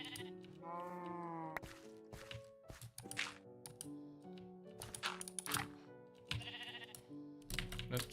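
Sheep in the Minecraft video game bleat repeatedly in short wavering calls, layered with clicking keyboard-like taps and soft game tones, all fairly quiet with no talk.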